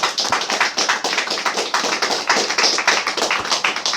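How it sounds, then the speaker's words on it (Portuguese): A church congregation claps steadily in a quick, continuous rhythm, a dense patter of many hands with no voices over it. "Palmas para o Senhor Jesus."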